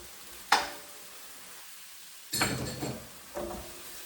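Beef and celery stir-frying in a hot pan, with short bursts of sizzle and scraping as the food is tossed, separated by quieter pauses.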